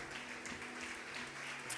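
A church congregation applauds at the close of a Portuguese-language sermon with soft, steady clapping that spreads as a broad wash of sound throughout the room, fairly distant and quiet.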